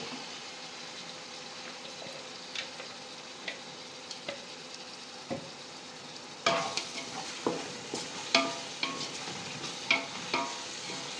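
Tomatoes and ginger fry together for chicken biryani under a steady, close sizzle, while a spoon stirs and scrapes the pan with repeated knocks that grow busier and louder in the second half, with no one talking.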